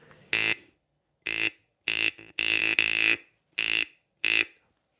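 Six short buzzing jaw harp twangs with a bright nasal tone, each cut off sharply, spaced irregularly with brief silences between.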